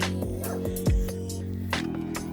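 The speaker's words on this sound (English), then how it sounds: "The dog is barking." A dog barks and yips a few times at moderate distance over a steady low background hum, with short whimpering cries mixed in and no clear speech.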